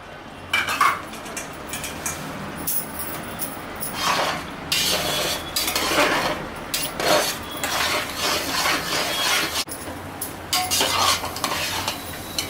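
A spoon stirs and scrapes in a pan as Satyanarayan puja prasad with dry fruits is sautéed, giving repeated metallic clinks over a soft, continuous sizzle with no talking.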